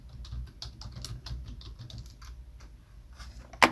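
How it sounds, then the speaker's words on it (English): Typing on a computer keyboard with quick, irregular clusters of light key taps close to the mic, followed by one louder final keystroke near the end. "Type in whatever you want to be searching for"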